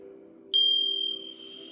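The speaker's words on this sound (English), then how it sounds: "I will use the Tibetan bells as well." A Tibetan bell is struck once for a meditation session, giving a clear bright ding that rings on and slowly fades over a steady low hum.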